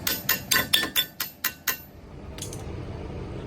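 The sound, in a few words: hammer striking axle to loosen it from wheel bearing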